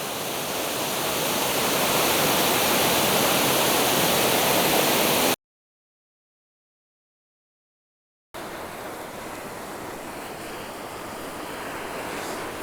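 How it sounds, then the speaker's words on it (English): Tateiwa waterfall in Aso, Kumamoto, Japan, gives a steady, dense rushing roar of falling water. It cuts out for a few seconds, then resumes slightly quieter, with no voices. "The waterfall of Tateiwa. Not the most impressive waterfall, but it's very pretty and I like it very much."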